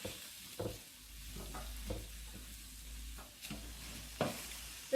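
Spring onion sizzling in a skillet while japchae with sweet potato glass noodles is cooked, a soft low frying hiss broken by several sharp stirring scrapes.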